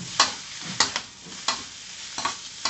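Garlic stir-fries in a hot pan while a utensil scrapes through it in about five sharp, regular strokes over a constant close sizzle, with no talk.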